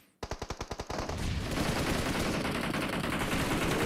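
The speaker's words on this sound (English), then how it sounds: "Bullets coming in from Tiamba once again, as they are dealing some very hefty hits." Automatic gunfire in a PUBG Mobile Global Championship esports match, opening with a rapid burst of about seven distinct loud shots before merging into a dense, sustained roar of fire.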